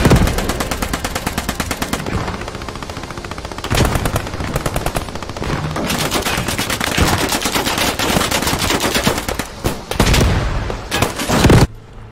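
Small arms gunfire in a D-Day video game, with dense, loud machine-gun bursts and rapid rifle shots rattling almost without pause, close and relentless, a few brief gaps breaking the barrage.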